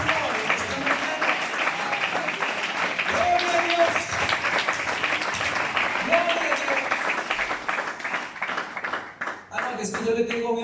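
Church congregation applauding during a Spanish-language sermon, steady clapping throughout with voices calling out praise over it, fading near the end.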